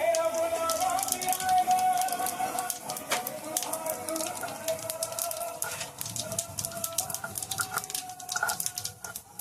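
Cumin seeds hit hot oil for a Bengali gular (cluster fig) dish, setting off a dense crackling sizzle with rapid, irregular pops that stays lively throughout.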